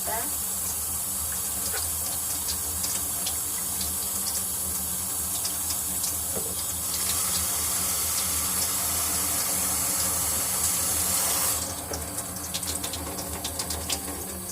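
Water poured from a tap or jug onto the potting soil of an orchid, a steady close splashing and trickling stream that runs throughout and brightens toward the end.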